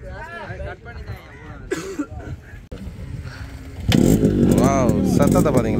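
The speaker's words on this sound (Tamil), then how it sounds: "சத்தத்தை பார்த்தீங்களா பைக்கில் எப்படி சத்தம்" An old Yamaha motorcycle in Jaffna, Sri Lanka: its engine breaks into a loud, raspy rev partway through and keeps roaring close by, with voices talking over the idle before it.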